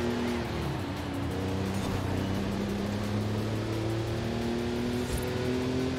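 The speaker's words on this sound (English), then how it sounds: "Hear that engine sound." Race car engine in Forza Horizon 5 heard from the cockpit during a lap, a loud steady drone with rising revs and gear changes, continuous for the whole stretch.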